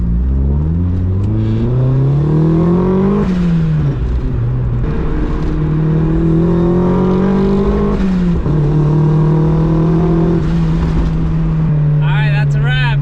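A Mazda Miata engine revs up and down through a loud, droning custom muffler, several rising pulls with a deep resonant tone, close by.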